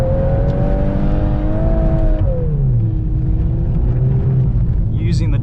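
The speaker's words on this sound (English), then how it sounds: "I'm mostly braking by setting the car sideways and off throttle downshifts." A 2022 Volkswagen Golf R with DSG gearbox sliding sideways on an ice track, its engine note dropping through off-throttle downshifts with rising and falling revs, close and loud under someone talking.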